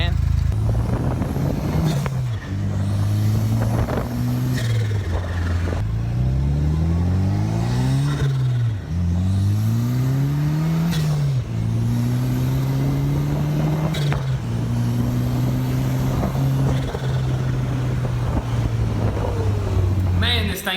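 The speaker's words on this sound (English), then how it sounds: "I'm gonna test drive it, see what this thing is made of, give you my thoughts on this kit car." A kit car built from a salvaged car, driven on the street, with the engine revving and accelerating through repeated rising gear pulls, each ending in a shift. The engine stays loud and close throughout, with a voice talking over it.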